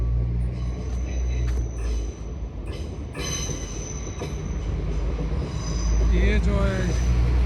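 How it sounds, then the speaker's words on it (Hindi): A local train from Munich pulls into Schongau station. A heavy rumble rolls under a sharp wheel squeal that rises near the end, with faint voices in the background. "ये लोकल ट्रेन है जो म्यूनिख से यहाँ पर डायरेक्ट भी आती है।"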